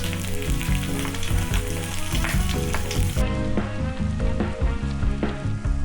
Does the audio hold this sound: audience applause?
no